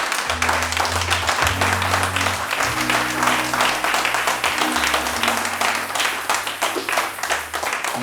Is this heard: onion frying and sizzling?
no